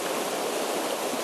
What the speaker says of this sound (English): what's going on is you have a river that's coming down after 4 or 5 days of rain